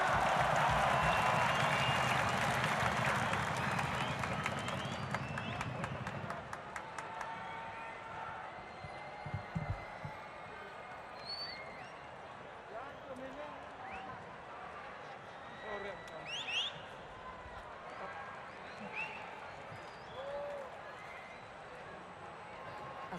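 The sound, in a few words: stadium crowd applauding at GBK concert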